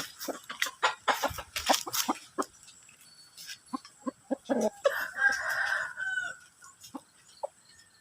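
Free-range chickens and gamecocks on a rural Thai farm in mid-afternoon, with a nearby rooster crowing over repeated hens' clucks and scattered calls, fairly close and loud at times against a quiet outdoor background.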